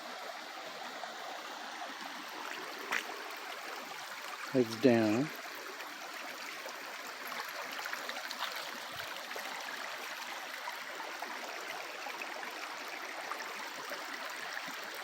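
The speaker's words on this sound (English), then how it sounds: "That's where the creek comes in." A creek flows through a forested property with cedar trees, making a faint, steady rushing wash throughout. A person briefly speaks partway through.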